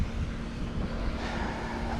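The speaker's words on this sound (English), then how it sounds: "it's real windy out here" Steady wind buffeting a microphone outdoors beside a third-generation vehicle being stripped for parts, a continuous broad rushing roar with low gusty rumble and no talking.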